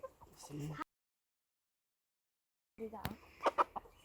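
A broody hen clucks in short, low bursts close by, mixed with people talking. A stretch of silence splits the clucking into two parts.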